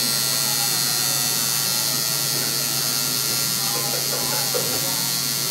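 A tattoo machine buzzes in a steady, close, unbroken drone for several seconds, with faint voices underneath.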